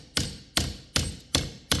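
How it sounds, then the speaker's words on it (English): A ball peen hammer taps a BMW X5 rear axle or bearing part to straighten it: five sharp, evenly spaced metallic strikes about every 0.4 seconds, each ringing briefly before fading, close and clear with no talking. "You just take the ball peen hammer. Nice and easy."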